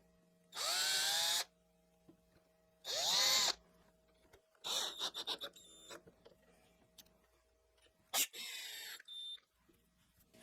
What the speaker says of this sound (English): let's start driving those screws.